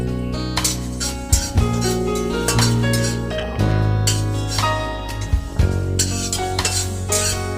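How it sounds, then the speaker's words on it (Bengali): Coriander seeds are dry roasted in a wok and stirred, with repeated metallic scrapes and clinks of the spatula against the pan coming in irregular bursts, close and fairly loud, with no speech. "কড়াইতে হালকা করে ড্রাই রোস্ট করে নেবো"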